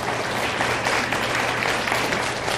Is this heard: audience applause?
yes